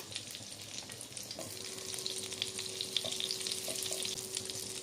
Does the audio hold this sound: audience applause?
no